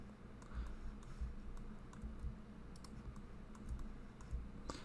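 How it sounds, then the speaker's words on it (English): Computer keyboard keys are pressed in scattered single clicks and short bursts while working in CAD software, close and fairly quiet over a low room hum, with no talking. "holding shift on the keyboard"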